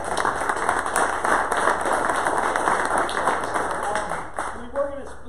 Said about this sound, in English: let's give these guys just a round of applause for coming out.